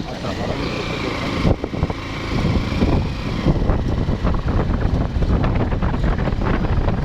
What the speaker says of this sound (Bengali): সমুদ্রের পাড়ে আসলেই হাওয়াটা শীতল হয়ে যায়